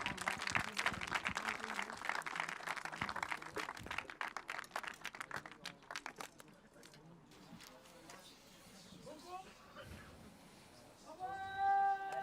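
Audience at a French championship final applauding the champion team, dense clapping up close that thins and fades after a few seconds, then a voice speaks over the room.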